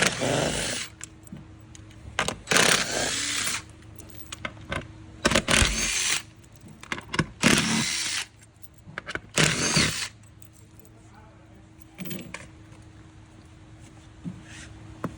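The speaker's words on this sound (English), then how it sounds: "we're gonna remove all the 5 bolts on the plate" A power tool, drill-like, loosening the five bolts on the plate of a Milo treatment table, running in several loud close whirring bursts of a second or two separated by pauses and small clicks, with no talking.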